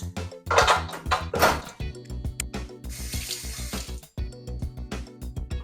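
Water running into a kitchen sink while a German chocolate cake is being made, with a short gush and splashes amid ongoing kitchen clatter.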